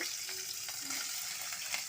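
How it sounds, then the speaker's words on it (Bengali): Paneer fries in ghee for veg fried rice with basmati rice, giving a steady, close hiss of sizzling oil and a few faint stirring scrapes throughout. "এই যে ঘি দিয়ে পনির করে ভাজা হচ্ছে"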